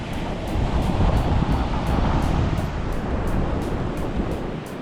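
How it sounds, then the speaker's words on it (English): Caribbean Sea surf breaking on a Costa Rican beach, a steady, loud wash of waves with wind buffeting the microphone throughout, no voices. "But there is the Caribbean Sea."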